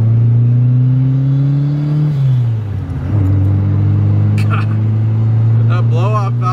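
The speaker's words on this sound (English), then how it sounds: "That blow-off valve, dude, I fucking love it." A turbocharged Nissan Skyline R34 GTR cruises and revs, its engine drone dropping as the throttle lifts with a short airy burst from the blow-off valve, then building again, with brief voices near the end.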